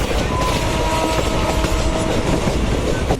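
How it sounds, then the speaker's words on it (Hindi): The Shramjeevi Express rolls along the tracks as it arrives at Ghaziabad railway station, a loud, close, continuous rumble with steady clickety-clack wheel beats and a faint high tonal whine. "फाइनली हमारी ट्रेन अराइव हो रही है गाज़ियाबाद रेलवे स्टेशन पर"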